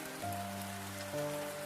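Steady rain falls through a cold night in a forest, a soft continuous patter with a low tonal hum beneath it and no voices.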